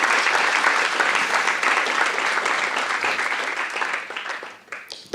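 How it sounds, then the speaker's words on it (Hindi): An audience applauds continuously in dense, loud clapping that tapers off toward the end. "तालियां बजा सकते हैं और ऐसा खुल के।"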